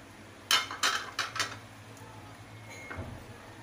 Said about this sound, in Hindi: इसमें ये जो मसाला जाते, लहसुन का पेस्ट, नमक, रेड मिर्च पाउडर और काली मिर्च पाउडर, इन सबको मैं इसमें मिक्स कर रहा हूँ